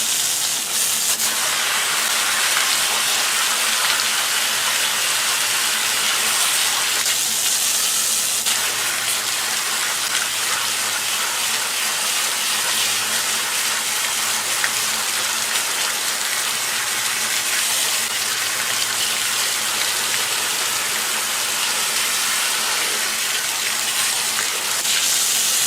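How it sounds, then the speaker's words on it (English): Steady, forceful water spray hisses continuously at close range, rinsing bugs out of a used AEM air filter, a dense rushing wash with slight shifts in intensity and no voices. "we're going to go ahead and spray the water this way to get all these bugs"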